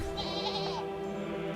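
A goat bleats in the fantasy video game Unicorn Overlord, one wavering, close bleat over a steady background game tone.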